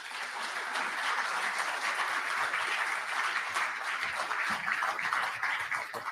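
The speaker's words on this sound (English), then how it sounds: "Give him a warm round of applause, everyone." A conference audience applauds a keynote speaker, steady dense clapping from a large crowd that holds evenly for several seconds at moderate distance.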